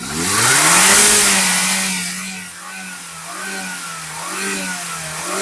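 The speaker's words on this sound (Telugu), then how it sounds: "ఇంజిన్ కూడా రేస్ చేసి చూపించాను" A 2010 Maruti WagonR petrol engine revs up close, climbing sharply to a high whine and easing back down, followed by a few smaller throttle blips over a steady idle, with no talking.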